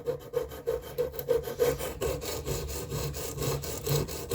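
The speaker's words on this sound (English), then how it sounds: "So I'm just going to do some scrubbing strokes." Repeated scrubbing strokes of a Leatherman Rebar blade rubbed over 100-grit abrasive during a blade repair, a steady rhythmic rasping that runs close and continuous for several seconds with no talking.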